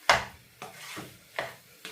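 Spoon scraping and stirring chicken curry in a pan while making filling for chicken rolls: four separate short scrapes, each one crisp and close, with a quiet pause between them.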